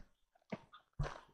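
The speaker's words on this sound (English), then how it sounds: "Keep hearing them bark every once in a while." Hunting dogs bark at night during a hog hunt, two short bursts from the pack at middle distance with quiet gaps between them, quite faint overall.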